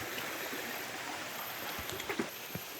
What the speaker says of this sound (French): je vous mets un peu de rivière.